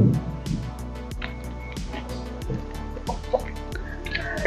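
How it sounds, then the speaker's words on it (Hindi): Desi chickens on a Saudi date farm make soft clucks and calls amid a steady background hum and occasional drip-like clicks, moderately close. "देसी मुर्गी, मैं तो फर्स्ट टाइम देख रहा हूँ।"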